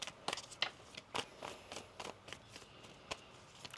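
Tarot cards are shuffled by hand in a quiet room, a series of soft, quick riffling snaps and flicks in an uneven rhythm.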